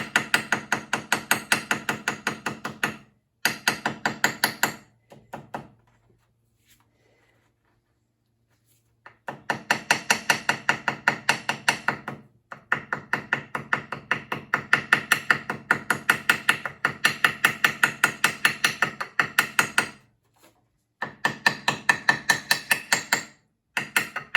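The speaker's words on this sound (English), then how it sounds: "you can use something like a nice little toffee hammer like that" Bursts of rapid light taps from a small toffee hammer cutting out a homemade gasket, fast and steady, with a few short pauses between runs, close and crisp without any talking.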